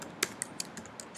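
Sharp, separate clicks of fingers tapping a computer keyboard while a web address is entered into a browser, about seven keystrokes spaced irregularly over a second, close and clear against a quiet background.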